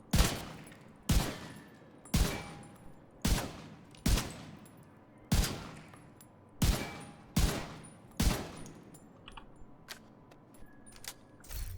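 Boomerang M1A rifle in a video game fires single shots at a steady pace, about one per second, eleven sharp loud cracks with short decaying tails and no talking.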